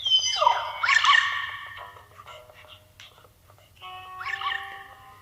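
Synthetic whining and yelping dog noises from the game Luigi's Mansion 3, two squeaky bursts with a soft hum underneath and no talking.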